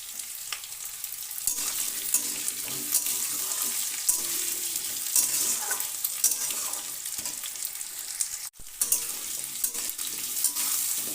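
Potatoes and sweet pumpkin sautéing in a pan over medium heat, a steady close sizzle with intermittent scraping and stirring clatter from a spatula throughout, no voices.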